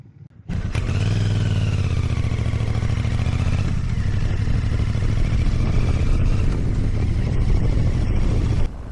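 A Royal Enfield Bear 650 motorcycle starts up and rides at steady speed, its engine drone loud and close, with rising and falling tones as it changes pace and no talking over it.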